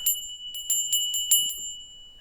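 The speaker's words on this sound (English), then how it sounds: "Let me get my bell." A small hand bell is rung in quick repeated strokes, about seven bright clear dings close to the listener, each ringing briefly before the next, with nothing else heard.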